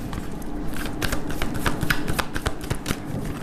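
Tarot cards being shuffled by hand, a dense, continuous riffling and flicking of the deck with quick irregular snaps, close and clear with no voices.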